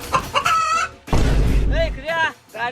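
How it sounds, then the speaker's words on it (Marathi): Chickens clucking inside a car, bursts of hen-like calls with a brief crowing-like cry, fairly close and loud, interleaved with voices talking. "गाडीत कशाला कोंबड्या घातल्या त्यास?"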